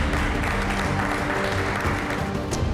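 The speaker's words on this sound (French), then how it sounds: "On peut l'applaudir bien fort." Audience applause on a French cooking competition show, a dense steady clapping that fills the whole moment at an even loudness with no talk over it.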